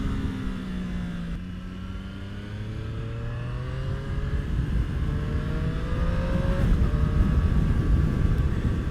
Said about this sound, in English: Let's just come down these gears again. Just blipping that engine.